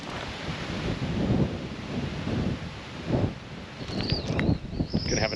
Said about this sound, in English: Wind's picking up, so at least that's kind of taking care of some of the heat.